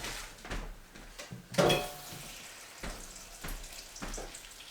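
Tap water runs into a stock pot holding bones, frozen onion scraps and peppercorns in a home kitchen, a soft wash of pouring with clinks and knocks of the pot, ending in scattered handling noises.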